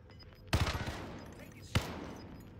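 Gunfire in the battle royale game Apex Legends comes as a quick rattling burst of several shots, then a single sharp shot about a second later, over quiet game ambience.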